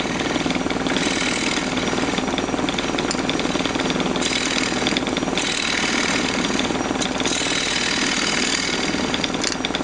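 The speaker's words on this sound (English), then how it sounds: "I'm just gonna use a round nose scraper to do it." A wood lathe spins a box blank off center while a round nose scraper cups out one end, giving a continuous loud mechanical whir with rhythmic chattering pulses.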